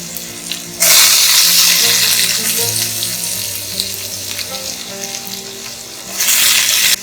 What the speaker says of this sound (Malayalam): കായ എണ്ണയിലൊന്ന് കുറച്ചു നേരം വഴറ്റിയെടുക്കാം.